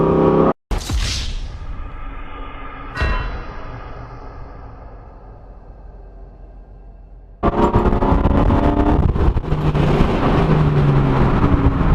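A 2003 Ford Mustang GT with a two-valve engine accelerates on the road while racing a Ford GT. A soft rumbling, whooshing stretch gives way to a sudden loud, sustained roar near the end.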